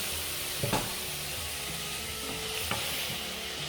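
Gnocchi fry in a pan with pancetta fat, making a steady, quiet sizzle with a couple of brief knocks of stirring, close up and without talk.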